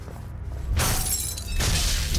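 A hell energy device being smashed in DOOM, a loud shattering crash that bursts in suddenly after a quiet lead-in, followed by a second breaking surge of debris.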